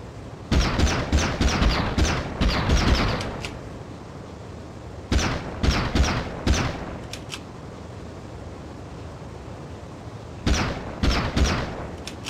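Gunfire in the Beverly Hills Cop video game, heard as several clusters of quick, sharp shots separated by quieter pauses, loud and close.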